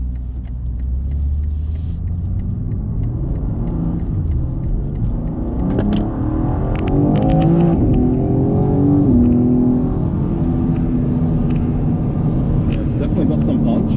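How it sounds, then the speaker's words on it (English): A 2023 BMW M2 on the road gives a deep, loud engine rumble from inside the car, with the revs climbing in a surge of acceleration midway before settling back to a steady drone. "we shall take you for a spin of the new M2"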